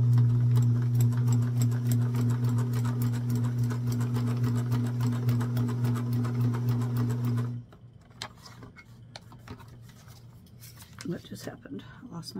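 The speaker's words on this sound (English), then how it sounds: "So now we are going to sew on the line for number 3," Sewing machine stitching a 6-inch paper-pieced quilt block, a loud steady motor hum with rapid needle ticking for about seven seconds, then stopping into quiet handling sounds and faint rustling.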